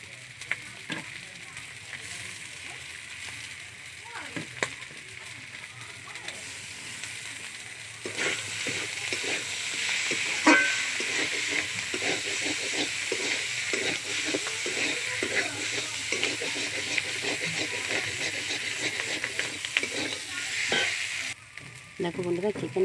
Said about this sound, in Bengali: বাসি চিকেন ভাজা, টমেটো দিয়ে, আলু কুচি দিয়ে